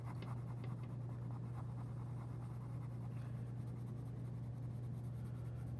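A red colored pencil pressed firmly onto textured drawing paper makes a soft, continuous scratching that is faint and steady beneath a constant low electrical hum.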